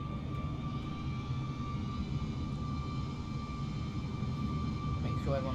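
Airliner jet engines spooling to full takeoff power in Microsoft Flight Simulator 2020 on an A320-type aircraft at Heathrow, a steady loud broadband roar with a sustained high whine, continuous throughout.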